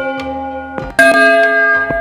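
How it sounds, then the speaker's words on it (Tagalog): A downloaded bell sound effect rings clearly, with a soft bell tone followed by a louder, bright strike and then a fainter ring at the end. There is no talking. "meron akong dinownload dito na bell."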